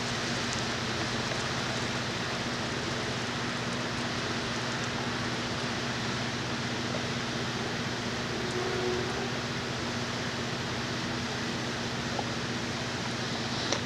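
Steady rain falls continuously, a dense even hiss of drops with a faint low hum beneath, no voices.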